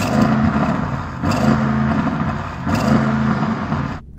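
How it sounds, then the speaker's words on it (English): An Audi RS6 engine revs hard three times in succession inside a snow dome, each rev rising then dropping, with a rough exhaust note and no talking. "let's have a listen to the RS6. Go rev it up."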